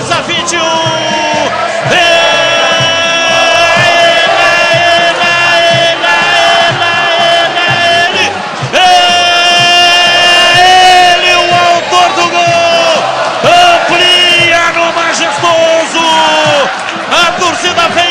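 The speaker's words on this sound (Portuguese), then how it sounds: "O estádio Moisés Lucarelli vai à loucura, ao delírio." Football crowd at Estádio Moisés Lucarelli during a Ponte Preta versus Comercial match, a dense continuous roar of massed voices yelling and chanting that stays loud throughout, with bands of sustained tonal singing layered over the noise.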